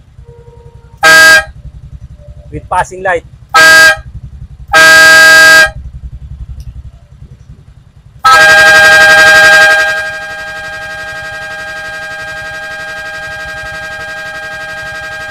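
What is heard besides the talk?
air horn on Honda Click 125 motorcycle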